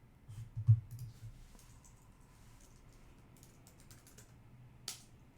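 Computer keyboard typing, soft scattered key clicks at close range, with a louder cluster near the start and a sharp tap toward the end, otherwise quiet.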